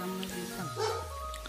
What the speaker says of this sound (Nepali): यहाँ चाहिँ कुकुर भुक्दैछ पोर्तुगलमा